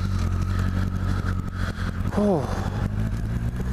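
A motorcycle engine drones steadily while riding a rough, badly surfaced road, loud and close with constant rumble and road noise, a brief voice exclaiming over it.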